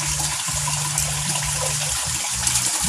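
Water pours steadily into a pan, a continuous rushing splash that stays loud and even from start to finish with no talk over it.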